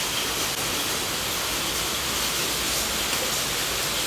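Steady, dense hiss of heavy rain pouring without pause, loud and even throughout, with no voices.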